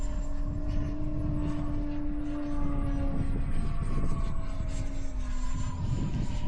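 Model airplane at a flying field passing overhead, a steady droning engine whine with slowly shifting pitch, fairly loud and continuous throughout.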